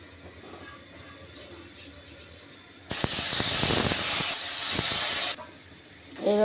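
Rice batter for chhit pitha is sprinkled onto a hot kadai wiped with soybean oil and bursts into a loud hissing sizzle that lasts about two and a half seconds, then drops back to a quiet background.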